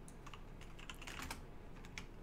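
Computer keyboard typing, quick scattered key clicks in short irregular bursts, close up but faint, over a low steady background hum with no talk.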